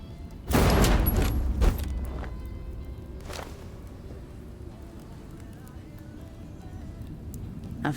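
A single thunderous, deafening gunshot in the video game Zero Parades: For Dead Spies rings out loudly near the start, with a rumbling tail that fades into quieter ambience.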